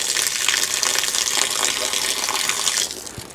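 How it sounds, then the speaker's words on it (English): Water gushes steadily under pressure from an RV water hose at a campground, a loud, continuous hiss and splash that eases slightly near the end. "So I'm gonna hold this leader hose up and see, hey, I got pressure now."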